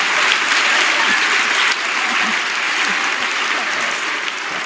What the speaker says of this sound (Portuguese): Ele acaba de fazer uma coisa errada e vocês aplaudem ainda?